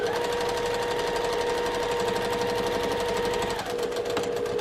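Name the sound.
sewing machine stitching through foam layers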